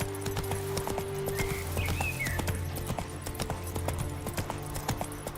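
In The Witcher 3, the horse Roach gallops with a quick, steady drumming of hooves from start to finish, a brief whinny-like call early on, and game music humming underneath.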